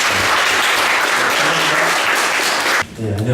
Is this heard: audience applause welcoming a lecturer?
yes